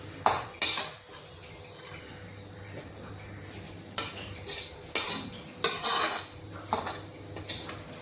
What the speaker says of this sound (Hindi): अब ये दही को हम एक बार और हिला देते हैं।